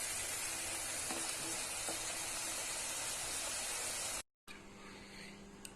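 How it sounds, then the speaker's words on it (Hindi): Potatoes frying in oil for Rajasthani aloo, a steady close-up sizzle that breaks off briefly near the end before resuming, with no talking. "बाकी के बचे आलू भी हम इसी तरीके से फ्राई कर लेंगे"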